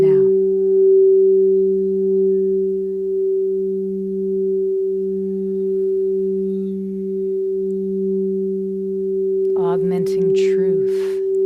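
Crystal singing bowls tuned to 432 Hz hold a long, steady, pure ringing tone with a soft lower hum that pulses slowly. Near the end, brief brighter shimmering strikes break in.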